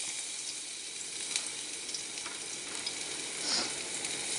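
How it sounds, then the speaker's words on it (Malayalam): Crushed ginger and green chili sizzle steadily in hot oil for a stir-fried okra dish, a close, continuous crackling fry with small pops and a swell of hissing near the end. "അതിലേക്ക് ഞാൻ ഇട്ട് കൊടുക്കണത് പിന്നെ ഇഞ്ചി പച്ചമുളക് എല്ലാം കൂടി ചതച്ചതല്ലേ അതാണ് ഇട്ട് കൊടുക്കുന്നത്"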